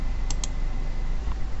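A few quick keystrokes on a computer keyboard, close and crisp, two clustered clicks followed by a fainter one, over a steady low room hum.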